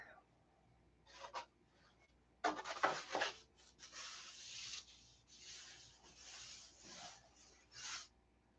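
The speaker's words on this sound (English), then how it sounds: "You can't sand it on the wing. I'm gonna have to sand it on the buck." A P-47 model wing shear web is sanded on a wooden buck in short bursts of dry, raspy rubbing, with pauses between strokes, close and moderately quiet.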